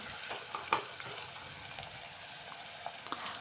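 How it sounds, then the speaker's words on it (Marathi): Onion fries in oil in a pan for a Kolhapuri stuffed brinjal dish, making a continuous bright sizzle with a few crackles and one sharper pop, close and steady throughout. "कांदा थोडासा लालसर होईपर्यंत भाजून घ्यायचा"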